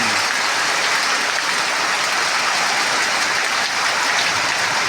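Heavy rain pours down in a flood, a dense, constant hiss of water close by that stays loud and unbroken throughout.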